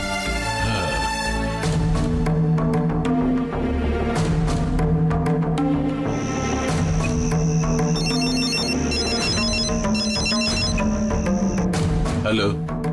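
A telephone rings steadily and loudly with repeating electronic tones, layered over background music with no pauses.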